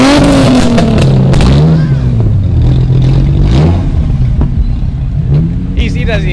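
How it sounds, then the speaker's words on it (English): Ford Mustang GT350 engine revving loudly at a Nashville cars and coffee meet, a deep roaring rumble rising and falling under close, loud crowd chatter and voices. "This GT350 just made a lot of noise."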